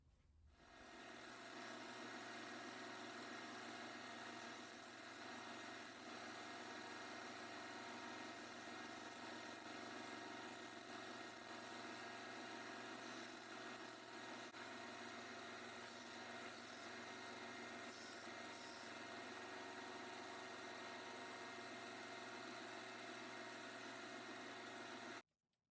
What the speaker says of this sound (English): take this over to the belt sander and kind of round over these edges here